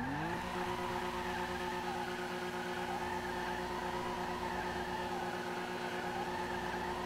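A fast car in GTA 5 drives with a steady engine drone and a sustained tire squeal throughout, loud and close, with no talking.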